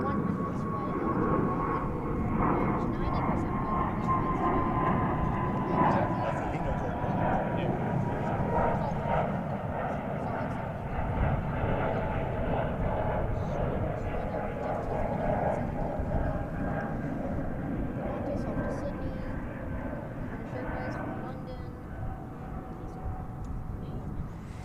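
An American Airlines airliner rumbles steadily as it taxis from Terminal D toward takeoff at DFW Airport, a continuous distant engine drone with a voice talking over it throughout.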